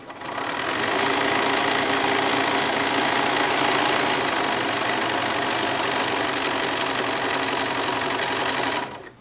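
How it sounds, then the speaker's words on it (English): A sewing machine stitching down a purple flamingo leg appliqué on a small quilt runs steadily and close for nearly the whole stretch, a continuous whirring drone that stops near the end. "Now I started sewing up that purple leg right here"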